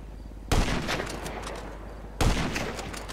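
Gunfire in the video game GTA V comes in two sudden loud bursts of rapid shots, each with a sharp crack followed by a rattling, echoing tail that fades before the next volley.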